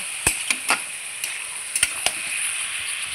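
Chicken pieces fry with onions in a pan, giving a steady high sizzle with a few sharp crackles and spatters scattered through it.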